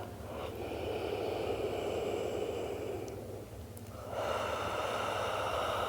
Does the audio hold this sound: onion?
no